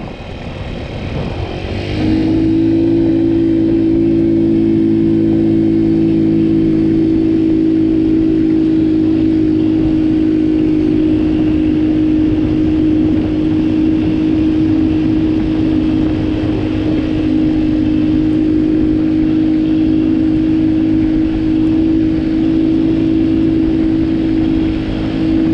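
A tuned scooter revs up from idle during enduro riding, then holds a loud, steady buzzing drone for over twenty seconds, close by and with no talk.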